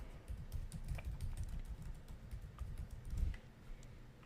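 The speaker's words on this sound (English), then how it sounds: "Next, type in my password." Someone types a password on a computer keyboard in a steady run of faint, quick clicks over a low background hum, with no talking.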